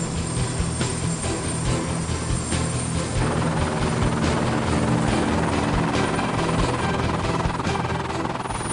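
A helicopter's steady, loud rotor and engine roar fills the whole stretch, close by and continuous with a low thumping throb underneath.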